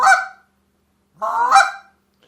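Two separate honks come from a short reed honker call imitating a Canada goose, each a loud, nasal, close-up blast with a short silence between them.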